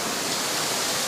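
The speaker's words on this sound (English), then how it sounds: "Wow, we are very close to the waterfall." A waterfall roars close beside a boat in Japan, a dense, steady rush of falling water filling the short moment with loud broadband noise.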